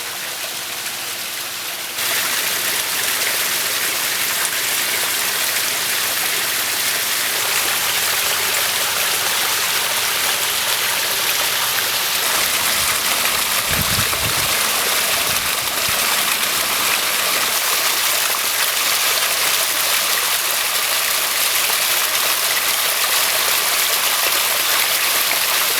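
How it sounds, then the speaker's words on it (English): Small backyard waterfall splashing continuously, with a steady broadband rush like a babbling brook, close and unbroken for the whole stretch with no voices. "you get your high-pitched sound that creates a nice babbling brook feel"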